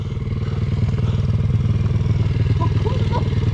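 Damaged motorcycle after crashing into a tree at high speed, its engine idling with a loud, rapid, rough pulsing chug throughout and a faint higher tone briefly over it.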